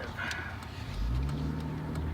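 A car pulls away from a fire station, its engine note rising as it accelerates, close and fairly loud with a low rumble under the cabin.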